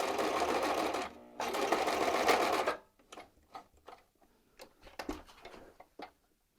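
A sewing machine stitching fabric panels for a tabard, running in two steady buzzing bursts up close, then falling to quiet handling clicks and taps.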